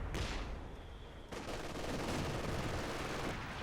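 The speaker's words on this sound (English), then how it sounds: "So MG opening fire." Machine gun fire from a Company of Heroes 2 match on the Port of Hamburg industrial map: sustained, dense rapid bursts rolling continuously and loudly for several seconds amid battle noise, with no talking.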